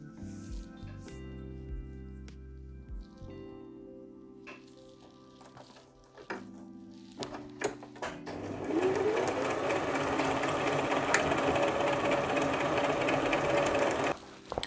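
Sewing machine hemming an apron strap made from old denim jeans, a loud, steady, close mechanical whirr running for several seconds after quieter handling noises.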